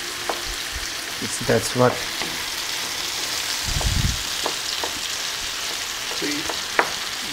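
Zucchini sizzles steadily while frying in a pan for a Persian zucchini omelet, with occasional stirring clatters and a brief low thump, and a few short spoken words.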